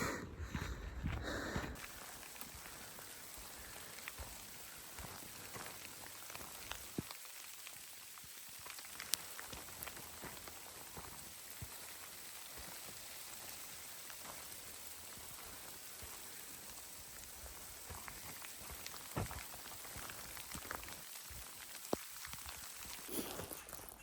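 Light rain patters softly and steadily outdoors, a faint, even hiss with scattered drips and no voices.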